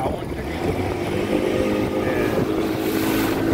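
A 30 hp motorboat engine on a lake drones loudly and steadily with rushing water noise, while voices talk faintly underneath.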